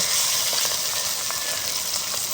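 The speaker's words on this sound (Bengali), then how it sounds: "মাছগুলোকে আমি এক পিট ভাজা হয়ে গিয়েছে এবার আমি এক পিট অন্যদিকে ঘুরিয়ে দিচ্ছি" Bata fish fry in a kadai for a spicy Bengali fish curry, turned over to brown the other side, with a loud, steady, close sizzle and a few soft taps of a spatula and no talk.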